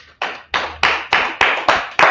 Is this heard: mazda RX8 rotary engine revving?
no